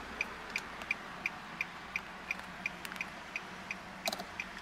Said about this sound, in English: Alright, so let's go ahead and turn on the hazards.